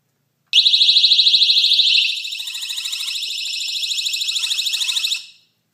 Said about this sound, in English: The door alarm is the loudest.